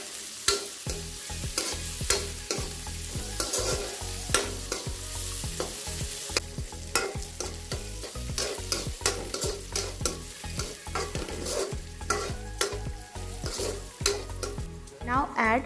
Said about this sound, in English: Now add carrot and fry it for a minute too.